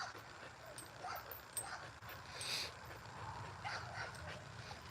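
A pit bull on a springpole whimpers and lets out a few short high yips, close up over steady rustling background noise.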